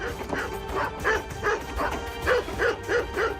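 Dogs shut inside give repeated yipping barks and whimpers in a steady rhythm of about eight short bursts, fairly close, with no talk over them.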